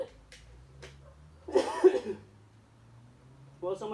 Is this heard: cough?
yes